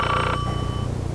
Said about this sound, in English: My phone rang early that day.